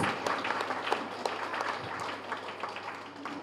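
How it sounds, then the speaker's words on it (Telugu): Audience at a celebration event applauding, a moderately loud patter of many hands with distinct individual claps, tapering off toward the end. "ఆ బాబుకి ఇంకొకసారి బిగ్ క్లాప్స్"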